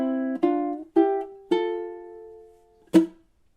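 Ukulele picking one measure of a song: four or five single plucked notes ring out one after another, clear and close, with the last note struck sharply after a short pause.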